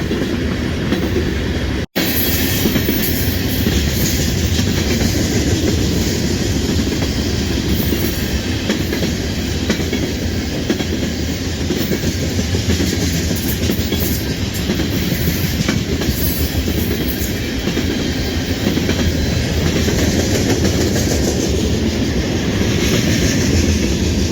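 Steady, loud roar of a long freight train of oil tank cars rolling past close by in the Chicago area, with continuous wheel clatter and no break in the noise.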